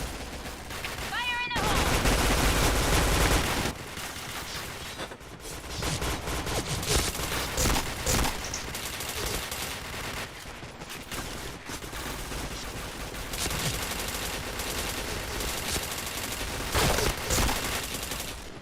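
Rapid bursts of gunfire in a shooter video game, dense fusillades and machine-gun volleys running nearly continuously, loud and close, with a voice talking intermittently underneath.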